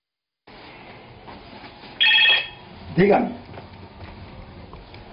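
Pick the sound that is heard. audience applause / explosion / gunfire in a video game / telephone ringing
telephone ringing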